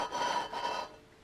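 A drill spins a valve against its seat with grinding compound, making a close, gritty rasping whir in two quick pulses that stop abruptly after under a second.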